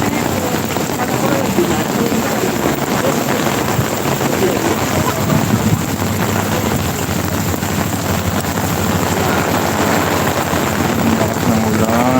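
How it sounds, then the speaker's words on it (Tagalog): Heavy rain pours at the Pasig River Esplanade near Jones Bridge, a dense, constant roaring hiss with wind buffeting the microphone. Occasional faint sounds rise beneath the steady downpour. "Lakas ng ulan."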